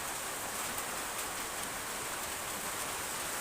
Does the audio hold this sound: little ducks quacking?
no